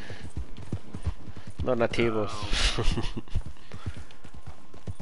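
Horse hooves clip-clopping in a Western video game, a steady walking rhythm of soft hoof beats running under a voice speaking Spanish throughout.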